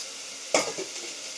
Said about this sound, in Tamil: இஞ்சி பூண்டு எல்லாம் வதங்கிக்கிட்டு இருக்குது